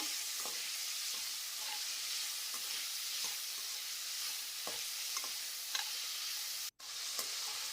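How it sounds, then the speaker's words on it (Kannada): Capsicum frying in oil in a kadai, a steady close sizzle with repeated scraping stirs of a spatula and a brief silent gap near the end. "ಕ್ಯಾಪ್ಸಿಕಮ್ನ ಸಮೇತ ಎಣ್ಣೆಯಲ್ಲಿ ಸ್ವಲ್ಪ ಫ್ರೈ ಮಾಡ್ಕೋಬೇಕು"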